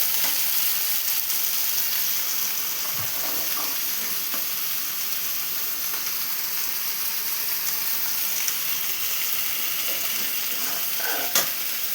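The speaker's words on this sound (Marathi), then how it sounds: "हा फिश आता परतलेला आहे." Fish pieces fry for a fish curry in a pan with an even, close hiss of sizzling oil and occasional faint stirring clicks, continuous and unbroken.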